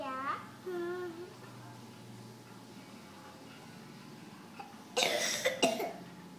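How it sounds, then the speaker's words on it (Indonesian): A few coughs burst out near the end, loud and close, after a stretch of quiet room noise and a brief child's vocal sound. "aku agak batuk-batuk gitu"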